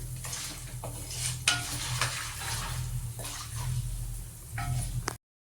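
Chicken curry ingredients frying in a pan, a steady close sizzle with occasional stirring scrapes running throughout, briefly cutting out near the end.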